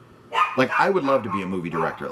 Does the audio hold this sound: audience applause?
no